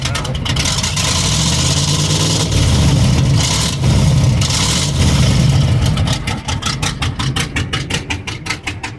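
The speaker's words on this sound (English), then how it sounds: "Give it a little rev." A car engine fitted with a Comp Cams 270H cam and an air-gap intake, idling with a loud choppy lope, then revved in short bursts before settling into a pulsing, uneven idle.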